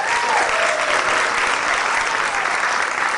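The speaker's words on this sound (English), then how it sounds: "Give yourself a round of applause first of all for coming out." Festival audience at KuumbaFest 2014 breaks into sustained applause, a dense, even wash of clapping from a crowd filling the whole moment.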